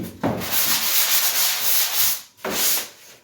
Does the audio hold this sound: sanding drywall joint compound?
yes